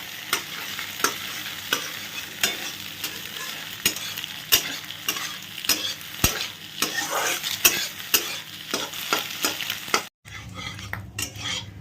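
Scrambled eggs are stirred and scraped in a frying pan over a steady sizzle, with regular utensil strokes for about ten seconds before the sound stops abruptly.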